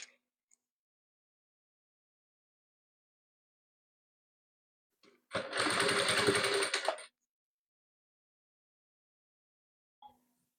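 A sewing machine stitching rows of patchwork quilt pieces together in a single quick burst of rapid, even needle clatter lasting under two seconds, close and clear in an otherwise quiet room, with faint handling clicks before and after.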